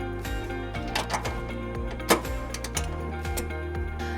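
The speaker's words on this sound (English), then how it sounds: "Now we're going to tighten and torque our carriage bolts to the vehicle manufacturer specifications using a 19mm socket." A 19mm socket ratchets as carriage bolts for a trailer hitch are tightened on a 2018 Nissan Sentra, giving irregular light clicks and a few sharper metallic knocks, close by.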